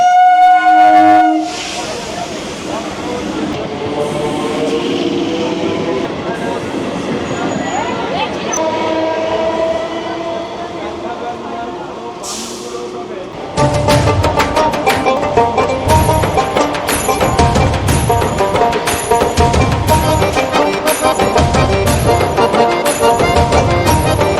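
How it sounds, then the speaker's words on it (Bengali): A train pulling into Narendrapur station rumbles steadily, then its wheels clatter rhythmically over rail joints, loud and close, with a horn-like tone early on. "আমরা নরেন্দ্রপুর স্টেশনে আমাদের ট্রেন ঢুকলো"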